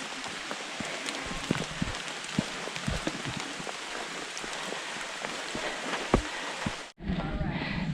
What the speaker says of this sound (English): Just spitting. It's not a heavy rain yet